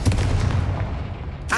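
The Confringo fire-blast spell going off in the video game Hogwarts Legacy: a loud, booming burst with a rumbling, gunfire-like low end that fades over about a second and a half, then another sharp sound right at the end.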